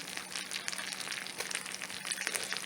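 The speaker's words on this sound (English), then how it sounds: "Just going to put the butter in here and let it do its trick here." Butter for a tarte Tatin melting in a pan, giving a faint, steady crackling sizzle with scattered small pops throughout.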